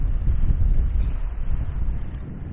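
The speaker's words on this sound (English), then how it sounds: "I'm going to try to get out of the wind." Wind buffets the microphone along the Dartmouth Harbourwalk in Nova Scotia, a loud, steady low roar that runs unbroken through the whole stretch, with no voices over it.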